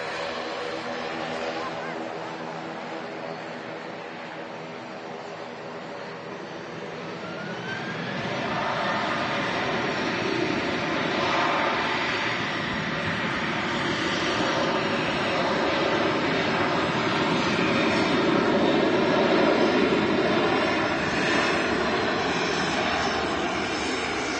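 A Ryanair Boeing 737-800 jet begins its takeoff roll at an airport, a steady broadband engine roar that swells after several seconds and stays loud and close, with a rising whine running through it.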